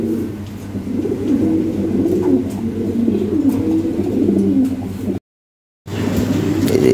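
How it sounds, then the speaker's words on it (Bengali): Several Lahori pigeons coo together in a steady, low, rolling murmur close by, broken by a brief silent gap before the cooing resumes. "অনেক সুন্দর কবুতর"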